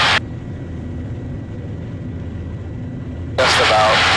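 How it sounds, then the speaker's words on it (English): Super Cub light aircraft engine droning loudly and steadily through takeoff, heard close from inside the cockpit, with brief bursts of voices at the start and end. "What we're referring to here is popping the aircraft off the ground with the use of the flaps."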